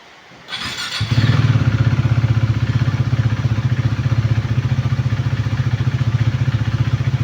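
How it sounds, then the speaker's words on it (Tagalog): A KTM Duke 390 motorcycle engine, just overhauled after burning oil and low oil pressure, catches after a brief crank, then settles into a loud, steady, throbbing idle close by. "then yan na yung kanyang andar ng makina"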